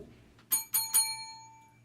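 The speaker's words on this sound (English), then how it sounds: "Ding the bell, ding the bell, ding the bell, ding the bell." A hand bell on a balcony dings three times in quick succession, each strike ringing bright and clear before the last one fades out slowly.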